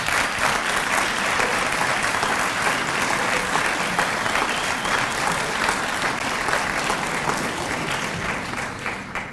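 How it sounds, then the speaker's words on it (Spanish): Loud, continuous audience applause fills a hall during a speech by Argentine president Milei, an even wash of many hands clapping that holds for about nine seconds before easing slightly. "Hay aplausos"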